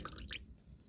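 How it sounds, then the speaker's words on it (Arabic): A few soft drops of tea with thyme drip and squish as the liquid is strained, quiet and over within a second. "ما فيهوش غير نقطتين ميه بس هنصفيهم هنا"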